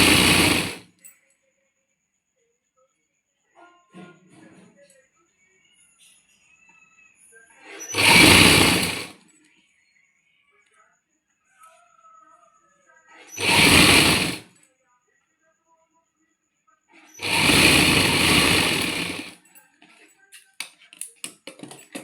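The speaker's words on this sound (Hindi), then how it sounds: "इसके ऊपर सिलाई लगा लेंगे" A sewing machine stitches a strip onto the hip of a kameez in three or four loud, close bursts of rapid whirring separated by quiet pauses, with brief faint handling sounds between runs.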